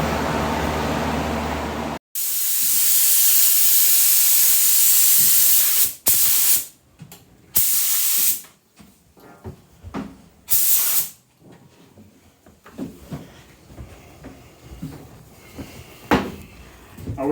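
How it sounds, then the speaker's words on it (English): Dupli-color spray paint hisses onto an SRT-4 spoiler in several bursts: one long steady spray, then shorter blasts with pauses, followed by quieter handling clatter. "You do know we're just spraying a spoiler"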